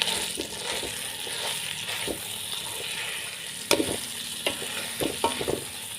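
Chicken curry sauce is stir-fried in a pan with a soft, continuous sizzle and occasional spoon scrapes and knocks. One sharper clatter stands out midway.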